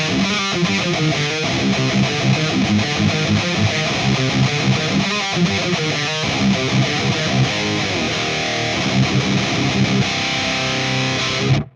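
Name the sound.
electric guitar riff through Valeton GP-5 EV1 riff preset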